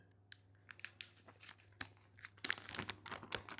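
Crinkling and tearing as a clear plastic bag is torn open, with sharp crackles and rips that grow louder toward the end, close up and without speech.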